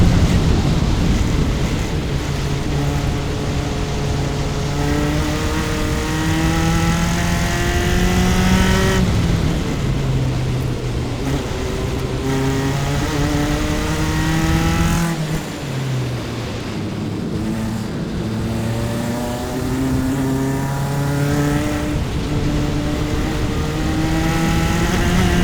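Single-seater race cars lapping Grattan race track, engines climbing through gears in repeated rising whines and shifting, heard from onboard with heavy wind noise throughout.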